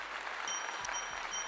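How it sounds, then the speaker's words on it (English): A live audience claps for host Corey Renee at a GodTalk Live event, a brief, steady burst of applause with a few faint electronic pings over it. "Round of applause for Corey Renee"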